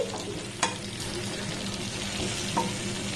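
Pointed gourd frying with spices in a pan, a steady close sizzle with a couple of brief clinks of the stirring utensil against the pan, no talking.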